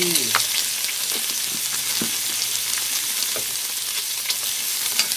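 Sliced bitter gourd stir-fried in a pan for a Thai bitter gourd and egg dish, with a steady close sizzle of frying and occasional scraping clicks of the spatula throughout.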